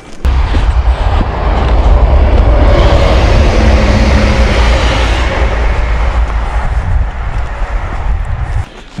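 A train passes on a railway track near woodland, its loud, close rumble building quickly and holding steady for several seconds before cutting off.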